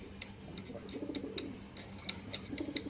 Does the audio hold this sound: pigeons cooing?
yes